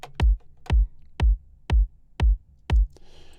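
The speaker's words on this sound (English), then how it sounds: "I've got the actual kick here, and it sounds something like this." A kick drum sample from an electronic track, made of a deep thump followed by a small tick, repeats six times at an even pace, punchy and isolated, with a brief noisy tail at the end.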